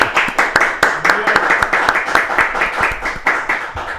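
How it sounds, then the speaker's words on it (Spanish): Studio audience on a Paraguayan news talk show gives a guest a loud welcoming round of applause, dense rhythmic clapping close to the microphones for a few seconds. "Damos la bienvenida con un fortísimo aplauso a Gerardo La"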